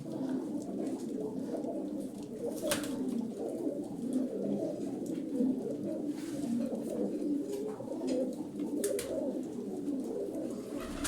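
A white pigeon coos steadily among other birds, a low continuous murmur of coos with occasional brief higher calls, close and moderately loud with no talking.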